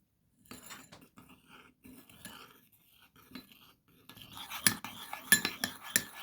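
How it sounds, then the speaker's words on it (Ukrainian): A spoon stirs sweet curd cheese dough in a bowl with soft scraping and light clinks, quiet at first, then growing into louder, sharper knocks against the bowl. "Просто розмішуємо цю масу ретельно."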